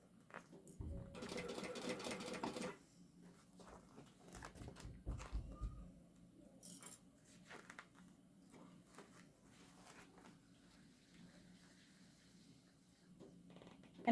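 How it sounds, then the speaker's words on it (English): A sewing machine stitching quilt binding runs in a fast steady whir in two bursts, a short one and a longer one, close and fairly quiet, with soft handling noises between and after. "And I'm sewing right now a little less than 1/4 of an inch"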